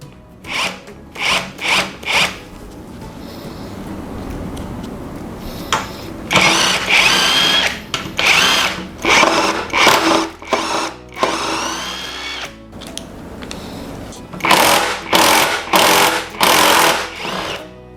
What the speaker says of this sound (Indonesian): untuk mesin impact ini dia lebih bisa untuk digunakan ke bagian yang lebih keras seperti ini